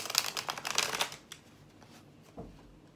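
Tarot cards being shuffled by hand, a quick run of crisp riffling flicks for about a second, then quiet with a soft single card tap or shuffle near the end.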